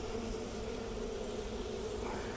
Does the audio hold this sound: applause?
no